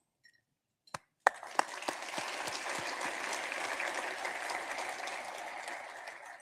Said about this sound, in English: Let's begin with a round of applause for our Friends of Goodwill table sponsors.